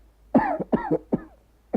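Four rough coughs in a quick series, close and fairly loud, with a brief pause before the last one.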